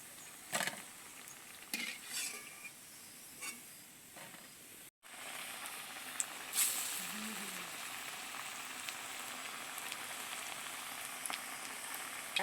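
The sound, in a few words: lentil fritters (dal bora) frying in oil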